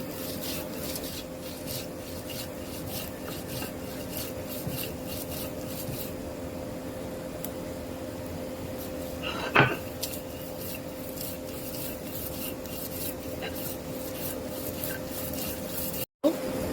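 Mashed chili is pressed and ground on a grinding stone, making a steady run of rough rubbing strokes at moderate loudness, with one sharper knock partway through.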